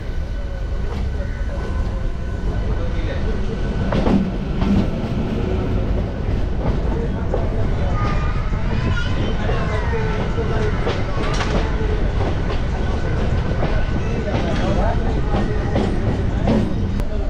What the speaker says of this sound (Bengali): local train